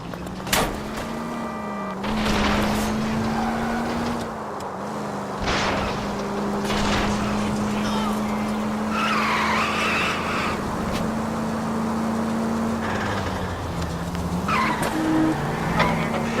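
A car engine in a chase in the video game LA Noire holds a steady, loud drone as tires skid and squeal, with brief crashing bursts and occasional voices over it.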